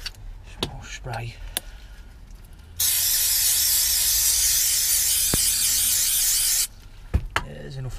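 Brake cleaner hisses loudly and steadily from an aerosol can onto brake parts for about four seconds, with clicks and handling noises before and after.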